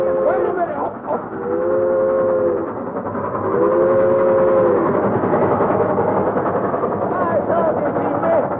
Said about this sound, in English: Well, stop the train!